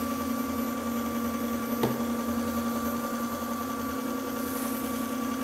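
Electric vehicle drive motor idling in first gear, a steady whine with a constant tonal hum and a brief click near the middle, continuous and even throughout.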